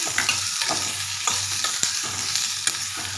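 Two large chopped onions sauté in a pan for a drumstick-leaf dish, with brisk, rhythmic spatula scrapes and taps over a loud, continuous close-up sizzle.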